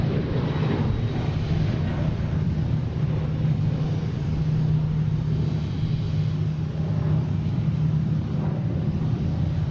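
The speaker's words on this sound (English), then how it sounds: "we have United taking off" A United Boeing 737-900 airliner takes off at Boston Logan International Airport, its broad engine roar rumbling steadily and loud for several seconds with no talk over it.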